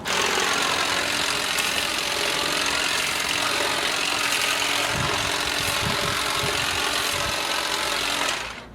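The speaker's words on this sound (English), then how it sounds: "Jay, that two-cycle engine is killing the planet" Two-cycle engine of a string trimmer running loud and close with a buzzy, rattling drone, a few uneven bursts toward the end before it cuts off.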